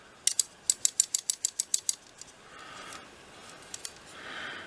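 An Adventure Ridge multi-tool from ALDI, a Leatherman clone with plastic side scales, rattles and clicks close by in a quick run of about ten sharp metallic ticks, followed by a few fainter clicks and soft handling noise.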